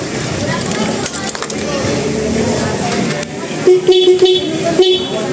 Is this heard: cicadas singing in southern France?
no